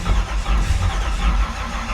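A 1968 Camaro engine cranks over and over without catching, a steady low churning rumble that runs close and loud for the whole stretch with no sign of it firing.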